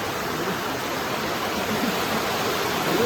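Strong current of river water rushing past in a steady, dense broadband roar, close and unbroken, with no talk.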